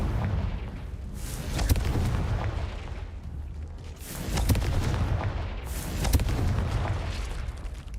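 Confringo fire-blast spell cast repeatedly in the video game Hogwarts Legacy, heard as three loud booming bursts about two seconds apart over a continuous low rumbling game soundscape.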